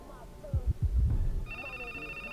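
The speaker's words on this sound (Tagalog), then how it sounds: "May tumawag ulit." A telephone rings with an incoming call, its steady high electronic ring tone starting partway through and continuing to the end, following a few low thumping beats and some talk.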